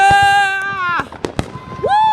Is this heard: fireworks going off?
yes